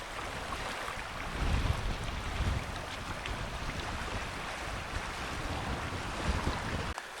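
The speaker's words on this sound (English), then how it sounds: "there is a pretty stout wind headed due north" Strong wind gusts across a lake island in Woodland Caribou Provincial Park, a steady, close rumbling roar buffeting the microphone, swelling slightly around the second and sixth seconds with no voices.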